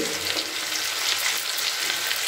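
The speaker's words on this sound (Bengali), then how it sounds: "একটু ভেজে নিচ্ছি।" Onions sizzle steadily in a pan, frying toward light brown for a cauliflower and egg dish, a dense, close crackle that never lets up and has no voices over it.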